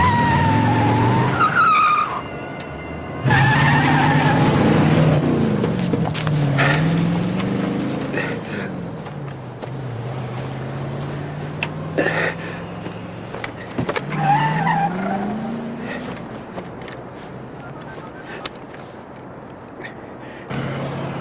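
A car engine revs hard with tires squealing, then the motor surges and fades as the car speeds away, with further roaring passes afterward.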